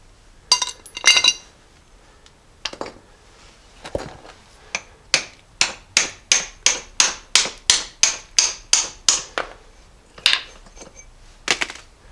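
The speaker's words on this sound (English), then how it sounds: "we'll just hammer out these remaining U-bolts. They're just rusted in there." A hammer strikes rusted U-bolts on a steel spring plate from a 1978 Jeep J10. Sharp metallic clanks come in a few scattered hits, then a steady run of about fifteen evenly spaced blows, then a couple more close, ringing strikes.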